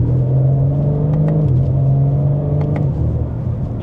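A 2026 BMW M4 Competition xDrive accelerates hard with a loud, close engine drone, its pitch holding steady and then dipping briefly at a gear change before the drive carries on.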